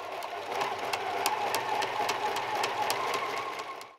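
A sewing machine stitches silk bodice lining and fashion fabric together for a Victorian 1882 day gown, a steady whirring hum with faint rapid ticking, fairly quiet and uninterrupted, stopping at the very end.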